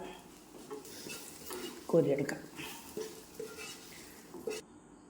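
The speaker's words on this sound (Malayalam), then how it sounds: "അപ്പോൾ ഇതെല്ലാം നന്നായിട്ട് വറുത്ത് കോരിയിടണം" Chillies and vegetables fry in hot oil with constant stirring, producing a soft, continuous sizzle with utensil scrapes while a person talks nearby.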